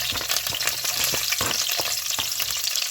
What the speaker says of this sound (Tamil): நாங்கள் ரெடி பண்ணி வச்ச வெள்ளைப்பூடு கருவேப்பிலையை சேர்த்துக்கொள்வோம்